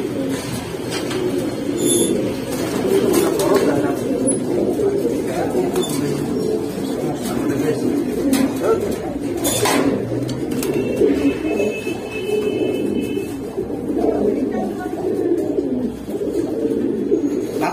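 Giribaz and Pangkhi pigeons coo repeatedly in soft, throaty calls, with occasional sharp clinks, under ongoing conversation between people nearby.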